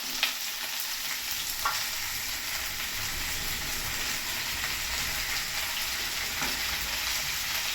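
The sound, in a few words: tomatoes sautéing in a pan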